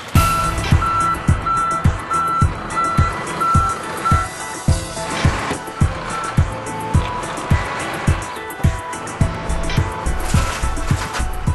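A lorry carrying a mounted crane with a grab backs up, its reversing alarm beeping steadily for the first few seconds over a heavy engine rumble and rhythmic mechanical thumping that continues throughout, loud and close.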